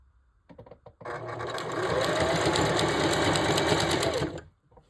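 A sewing machine stitches tracks onto a mesh dome cap, a few short taps and then a loud, steady run of about three and a half seconds before stopping abruptly.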